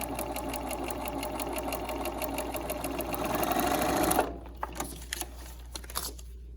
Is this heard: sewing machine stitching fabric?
yes